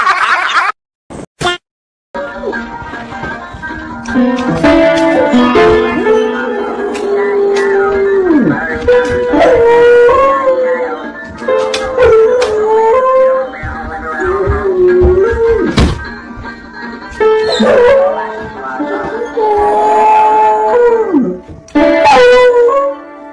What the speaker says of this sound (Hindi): मतलब कितना दर्द है इस कुत्ते के पियानो बजाने में।